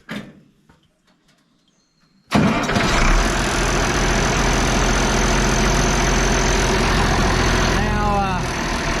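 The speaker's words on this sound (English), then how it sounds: "So now that's done, we'll start tractor up." An International 1066 tractor engine cranks after a couple of seconds of near silence, catches with a loud start, then settles into a steady, heavy diesel idle that runs close by to the end.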